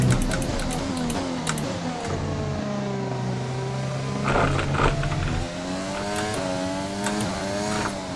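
Racing engine sounds from F1 2020 on a wet Red Bull Ring track, with loud, continuous revving whose pitch rises and falls through gear changes and throttle lifts, filling the whole stretch.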